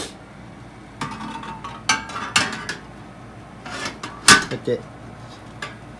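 Several metallic clunks and light clinks as a metal water tray is slid and set in place in a Snow Peak grill, with a voice speaking briefly between the knocks.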